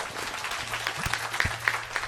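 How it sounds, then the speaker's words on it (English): A round of applause at a Gurukul camp graduation ceremony: a short burst of moderate clapping from a small audience, steady and fairly close, with a low hum underneath and no talking. "Give him a round of applause."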